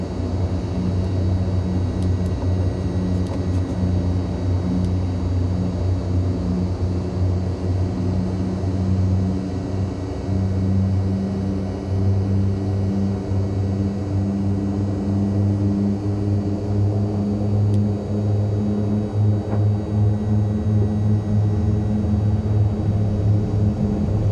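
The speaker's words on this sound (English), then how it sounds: "And we take off right into the rising sun." A propeller aircraft takes off in Microsoft Flight Simulator 2020, a steady, droning engine roar with a deep throbbing hum that holds loud and constant throughout.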